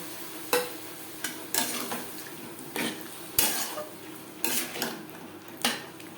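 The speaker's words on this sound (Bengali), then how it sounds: "ধনের গুঁড়ো আলু ও মশলার সাথে বেশ ভালো করে মিক্স করে দেবো" Potatoes being stirred with ground coriander and spices in a pan, a soft sizzle beneath a series of roughly regular spatula scrapes and clatters against the metal, close and unaccompanied by speech.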